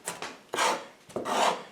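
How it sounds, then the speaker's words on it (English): A kitchen knife chops diced onion on a cutting board in three short, close bursts of gritty scraping and rocking, with brief pauses between strokes. "just a little bit more chopping"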